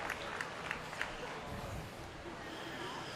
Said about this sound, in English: If everybody could give these 4 individuals a round of applause for this overall market steer drive or market animal drive